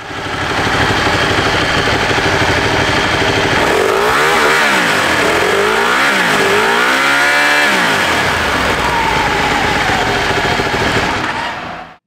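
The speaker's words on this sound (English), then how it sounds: "she has that classic Ducati sound to go along with it" A 2014 Ducati Panigale 1199 S rumbles loudly at close range, revving up and down several times in quick succession before dropping back to idle.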